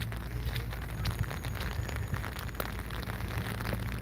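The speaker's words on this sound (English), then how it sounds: "now I'm walking right through the puddle, like Amy told me not to." Steady rain falling on an outdoor amusement park, Silver Dollar City, with footsteps splashing through a puddle, a dense soft hiss with scattered small splashes throughout, no talking.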